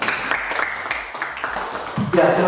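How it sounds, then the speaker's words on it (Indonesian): A classroom of students applauds a presenting group, a dense wash of clapping that runs throughout with a roomy, mid-distance sound and a brief voice near the end. "Tepuk tangan dulu"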